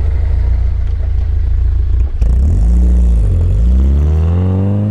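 A Lada Niva engine idles with a low rumble, then revs up sharply, its pitch climbing and falling as it strains in first low-range gear, loud and close.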